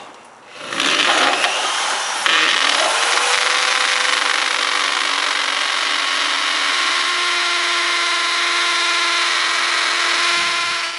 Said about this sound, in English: And then go ahead and drill your next 1/4 inch hole.